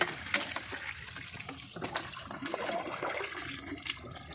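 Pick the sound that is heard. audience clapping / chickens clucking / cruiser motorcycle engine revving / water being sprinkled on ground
water being sprinkled on ground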